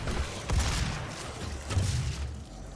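Booming explosions from the shooter game Doom (2016), a couple of heavy low blasts rumbling through a dense, continuous wash of combat noise.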